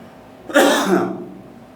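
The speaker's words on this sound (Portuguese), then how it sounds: "estou com um pouco de tosse aqui" One rough, throaty cough close to the mic, a single burst that fades out over about half a second.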